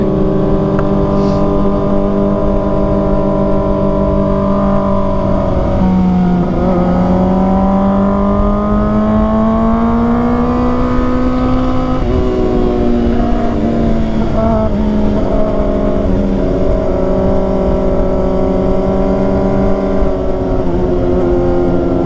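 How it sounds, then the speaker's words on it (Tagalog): A car engine revs hard and loudly close by throughout, its pitch rising and falling in long sweeps with a steady roar underneath. "grabe lakas ng makina eh"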